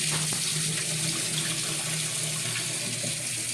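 Biryani rice being washed in water, a continuous close splashing and running-water wash with no talk.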